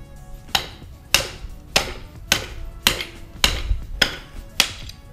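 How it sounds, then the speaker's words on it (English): A hammer strikes a wrench set in a car bushing to drive the bushing out, seven or eight sharp metallic blows at a steady, slightly uneven rhythm, loud and close, with no talking. "You set the wrench in the bushing, get your hammer,"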